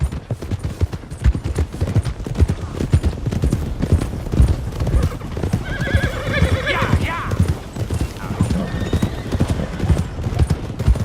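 A horse whinnies and its hooves clop steadily in Red Dead Redemption 2, the neigh rising clearly mid-clip over continuous hoofbeats and game ambience.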